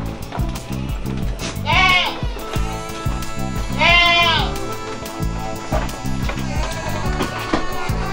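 Goats in a farm pen bleat loudly in two clear, wavering calls a couple of seconds apart, over a rhythmic music bed, with more bleats fainter later.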